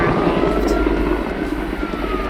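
A firefighting aircraft flies close over the water near Lefkas in the Ionian, its heavy rotor-like engine drone loud and steady under speech.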